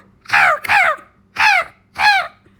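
A crow caws loudly and close, four harsh calls in quick succession with short gaps, alone in otherwise quiet surroundings.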